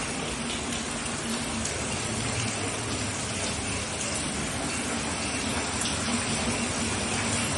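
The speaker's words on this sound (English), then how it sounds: "It's like a pipe turn on inside the house." Water pours steadily from a pipe inside a storm-damaged house, a continuous loud rushing gush, close and unbroken throughout, with no one speaking.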